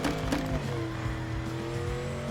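Engine of a car in a video game, with a thin, squeaky toy-like tone, holds steady harmonic lines that shift pitch as it revs, loud and continuous throughout with a brief squeal near the start.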